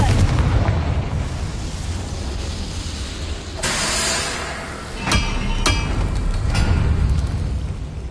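A Confringo spell explosion in a video game, a loud booming blast over heavy rumbling background, with a couple of sharp cracking bursts following.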